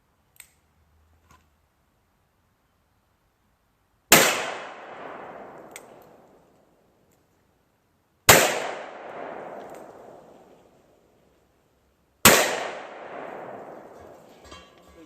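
Three loud .500 S&W Special revolver shots, firing 440 bullets over 10 grains of Unique, ring out about four seconds apart, each a sharp muzzle blast with a long decaying echo, after a couple of faint clicks.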